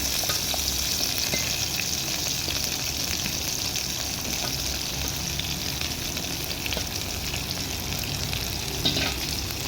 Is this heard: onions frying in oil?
yes